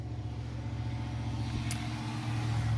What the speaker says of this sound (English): you can hear our rush hour traffic out here